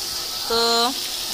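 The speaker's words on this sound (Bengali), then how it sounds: "তো মাছগুলো আমি যে এভাবে লাল লাল করে ভেজে নিলাম দেখেন।" Fish frying in mustard oil gives a steady, close sizzling hiss, briefly interrupted by a short tonal squeal in the middle.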